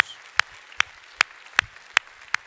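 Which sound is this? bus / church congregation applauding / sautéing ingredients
church congregation applauding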